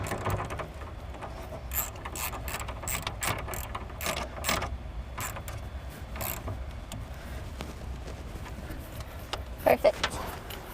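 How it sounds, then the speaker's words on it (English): A ratchet with a 10mm socket tightening a bolt while installing trailer wiring on a 2017 Chevrolet Cruze Hatchback, giving repeated quick clicking bursts in uneven strokes, close and moderately loud over faint background hum. "use your 10mm again to tighten that bolt down"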